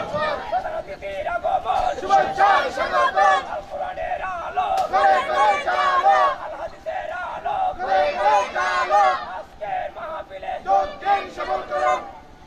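At an Islamic religious gathering, a large crowd chants the takbir in loud, rhythmic unison bursts. Each call is followed by a massed response, repeated several times in a reverberant space.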